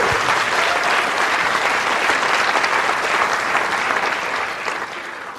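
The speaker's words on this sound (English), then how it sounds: "Give her a big round of applause." Sustained applause from a large crowd, loud and steady throughout, easing off slightly near the end.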